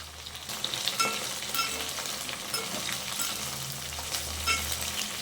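Okra (bhindi) fries in a pan, giving a continuous close sizzle with scattered crackles and a few light stirring scrapes.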